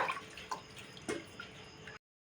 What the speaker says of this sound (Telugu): ఒక లీటర్ నీళ్ళు ఈ విధంగా వేసేసుకోవడమే